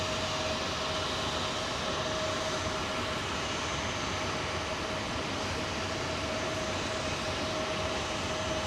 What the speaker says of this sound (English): look at this Finnair 350 on the push, folks